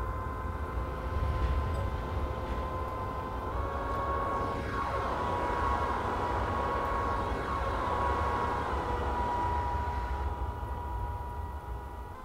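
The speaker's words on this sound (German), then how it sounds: "Ah, wie schön sich der Zug hier in die Kurve legt." An ICE-T high-speed train from a Train Simulator 2014 run out of Hannover Hauptbahnhof rolls steadily through a curve, a continuous rumble with sustained tonal whine and faint sweeping squeal, close and even throughout.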